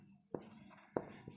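Marker or chalk writing on a board during a class 9 mensuration lesson, two or three short, sharp strokes over a quiet room hiss.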